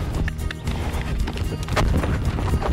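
A horse's hooves clip-clop in a quick, uneven rhythm close by, over loud low rumbling and background noise, with no clear speech.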